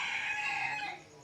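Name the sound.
guinea fowl on a farm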